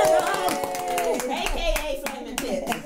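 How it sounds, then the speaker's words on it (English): A small studio group claps to welcome a guest, quick uneven handclaps running under lively speech throughout. "Come on, producer, you can clap too."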